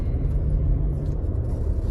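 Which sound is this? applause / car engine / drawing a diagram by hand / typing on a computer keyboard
car engine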